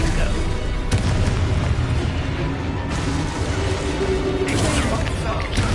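Confringo spell explosions in Hogwarts Legacy, loud continuous rumbling blasts with sharper impacts roughly every two seconds, heavy low boom throughout alongside game noise.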